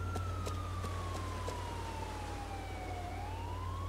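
A police siren wails in Grand Theft Auto IV, sounding as a steady, gliding tone over a constant low engine rumble with faint repeated clicks, and no one talks.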